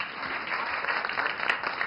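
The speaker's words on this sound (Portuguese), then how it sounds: "Eu quero aplausos." A studio audience gives steady, dense applause for a guest arriving on a talk show, a continuous wash of clapping, moderately loud and unbroken, with no speech over it.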